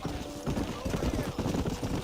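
Horse hooves clip-clopping in the Red Dead Redemption video game, a steady rapid rhythm of hoofbeats close up with dense game ambience and a voice over them.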